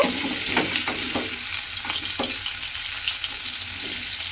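Continuous sizzle of potatoes frying in oil, close and even, with a few soft stirring knocks early on and no talking.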